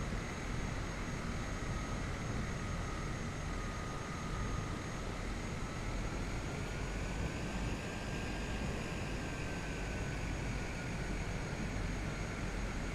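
Caravan aircraft in a flight simulator taxiing, its engine giving a steady, continuous droning hum with a slowly shifting whine, loud and unbroken throughout, no voices.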